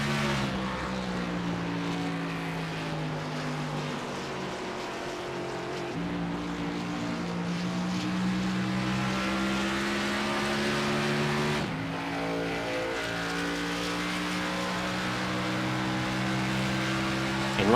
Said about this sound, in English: Take a look on board with Nicholas Cohan inside the number 21